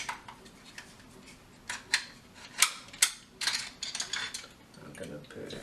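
A shotgun's forend and bolt assembly being removed by hand, heard as a series of faint close metallic clicks, slides and clacks with brief sharper snaps in the middle.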